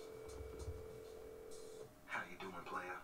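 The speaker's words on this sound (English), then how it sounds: "pull up the cell phone, give Dex a call" A cell phone dials a call in the Saints Row 2 video game, a steady electronic tone that holds for almost two seconds before a voice starts talking.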